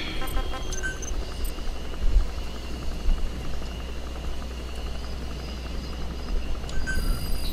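Support helicopter in the Metal Gear Solid 5 video game, heard as a steady low rotor drone that stays at an even level throughout, with faint game effects on top.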